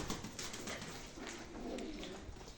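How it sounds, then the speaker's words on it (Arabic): Pigeons coo softly in a loft where some are nesting on eggs, a low murmuring coo rising and falling continuously at moderate distance with no talk. "تعال نشوف الحمام اللي بايض والحمام اللي مش بايض"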